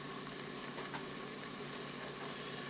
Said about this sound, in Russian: уже лук хорошо шкварчит